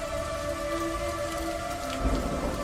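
Rain falls outside a room window in a steady hiss while a low rumble of thunder swells near the end, with a faint tonal hum throughout and no voices.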